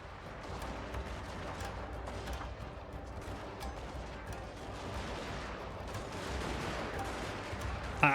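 Musket volleys crackle through a Total War: Fall of the Samurai battle, with scattered overlapping shots forming a continuous, fairly faint fusillade from a distance.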